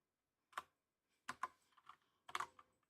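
Short bursts of typing on a computer keyboard, a single click followed by two clustered runs of close key presses separated by brief pauses, quiet and with no voices.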